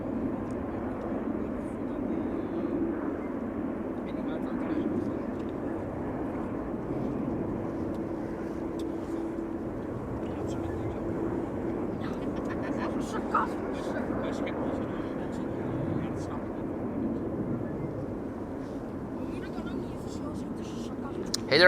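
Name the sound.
Aegean airliner from Athens arriving at Amsterdam Schiphol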